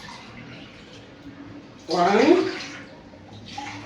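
Water is poured into a cooking pot (sufuria) while measuring cups for rice, a short burst of splashing pouring under a nearby voice that talks around it.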